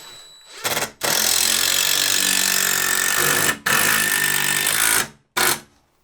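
A power drill drives a screw through a shoe shelf into a wall stud in a few loud bursts, grinding and rattling, each cut off by short pauses between pulls of the trigger.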